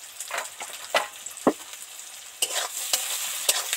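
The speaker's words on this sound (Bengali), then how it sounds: "ভালো করে নাড়তে থাকবো, পেঁয়াজগুলো যাতে সফট সফট হয়ে যায়" Onions sprinkled with a little salt being stirred and fried in a pan until soft, with a soft ongoing sizzle broken by repeated close scraping strokes of a spatula.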